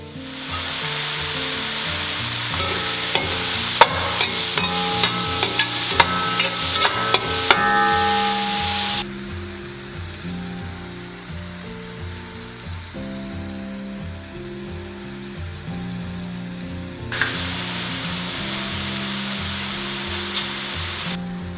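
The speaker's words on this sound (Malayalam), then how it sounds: "എണ്ണയ്ക്കകത്തിട്ട് നമ്മൾ ഏകദേശം വറുത്തെടുക്കുന്ന പോലെ ക്രിസ്പി ആയിട്ടാണ് മഷ്റൂംസും കുക്ക് ചെയ്യുന്നത്." Mushrooms frying until crisp in hot oil for a French beef stew, a steady loud sizzle with scattered sharp pops and stirring clatter early on, the crackle thinning midway before rising again.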